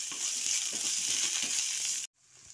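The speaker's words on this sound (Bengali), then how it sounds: "এবার একটু এগুলো ফ্রাই করে নিচ্ছি।" Onion, grated carrot, finely chopped beans and peas frying in a pan, a steady close hiss and sizzle that cuts off abruptly near the end, followed by a quieter sizzle.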